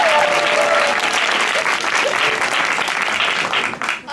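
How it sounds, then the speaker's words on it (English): Big, loud, sustained applause from a live show audience, dense clapping that holds steady before tapering off at the end. "Can I have one more huge round of applause?"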